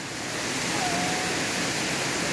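A waterfall on Nosy Be, Madagascar pours in a steady, loud broadband rush that fills the whole moment without a break, with no voices over it.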